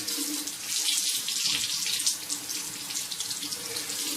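Cold tap water runs steadily into a sink with a bright, hissing splash, close and continuous, while a safety razor is rinsed.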